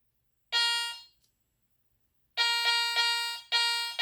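A Garrett Ace 300 metal detector in an air test gives bright, buzzy electronic tones over a sterling silver ring: one short tone, a pause, then two longer back-to-back tones, clear and close in a quiet setting.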